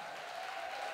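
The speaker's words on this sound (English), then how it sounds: "So give yourselves another round of applause." School students applaud at a council president's P.L.A.Y. campaign kickoff, a steady wash of clapping from a crowd that fills the whole moment without pause.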